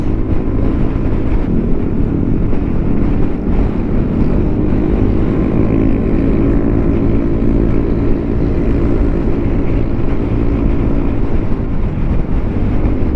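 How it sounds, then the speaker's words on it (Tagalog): Strong, steady wind roars and buffets against the microphone while riding a Yamaha Aerox V2 155 scooter, with a low engine rumble underneath, continuous and loud throughout. "Lakas ng hangin bro."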